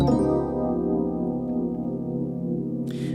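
A rich, jazzy chord using a tritone substitution rings out and sustains, slowly fading, with a short burst of noise at the very end.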